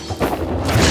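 A firework rocket blasts in the video game Minecraft Dungeons, giving a loud, close crash and boom that swells into a rolling, crackling burst with no speech.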